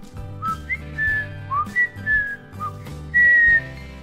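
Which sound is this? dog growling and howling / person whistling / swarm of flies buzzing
person whistling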